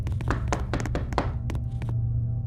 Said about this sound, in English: They're knocking on the door?